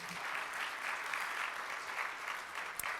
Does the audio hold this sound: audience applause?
yes